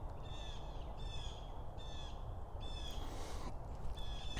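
Several crow-like caws ring out from birds a little way off, short harsh calls repeated in rough groups of two or three, over a low steady outdoor background hum.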